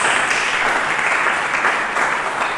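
A church congregation applauds during a sermon, a steady dense wash of clapping from many hands that holds at an even level from start to finish with no voices over it.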